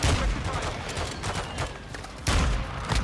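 Gunfire in the shooter Warzone crackles in rapid bursts of shots, loud and close, with a heavy volley near the start and another after a short lull.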